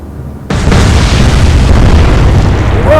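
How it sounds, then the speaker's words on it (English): A huge ship magazine detonation on the battleship Ramillies in the naval strategy game Atlantic Fleet, erupting suddenly after a quiet moment into a loud, sustained roaring double blast that rumbles on without fading. "Double fireworks from the Ramillies. That's 2 magazine detonations in one."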